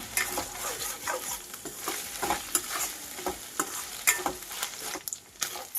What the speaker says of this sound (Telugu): కాస్త పచ్చివాసన పోయి నూనెలో బాగా ఫ్రై అయ్యి ఆయిల్ సపరేట్ అయ్యేంత వరకు ఫ్రై చేసుకోవాలి